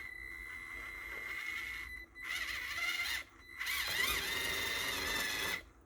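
A Kyosho Mini-z 4x4 RC car fitted with a gear reduction mod runs in bursts, a high whirring motor and gear whine that starts, stops and revs again, close and without talking.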